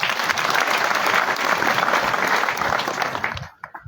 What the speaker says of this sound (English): they deserve a hand clap